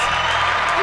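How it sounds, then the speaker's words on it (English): Canned applause sound effect dropped into a casual talk show as a new guest is welcomed, a dense, steady wash of crowd clapping with faint cheering, loud and continuous for under a second. "Hit the claps."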